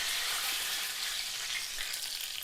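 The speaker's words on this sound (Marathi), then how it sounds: "मोहरी टाकणार आहोत, कढीपत्ता टाकणार आहोत," Mustard seeds and curry leaves sizzle in hot oil for tempering idli, a steady bright crackling hiss, close and continuous with no talk.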